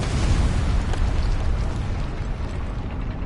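A big rumbling explosion in Elder Scrolls Online as a great shackle shatters booms and roars, a dense, loud blast that slowly fades over a few seconds.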